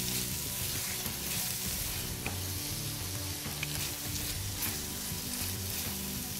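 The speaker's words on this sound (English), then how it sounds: "And just go ahead and mix it all in." Aloo mattar paneer curry sizzling steadily in a pan while being stirred, a continuous dense frying hiss with faint scraping, no voices.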